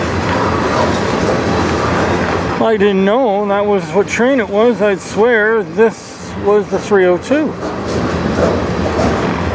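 CN mixed freight train A492, led by ET44AC 3049 and SD75I 5688 locomotives, rolls past with a steady heavy rumble and rail clatter, while someone talks over it partway through.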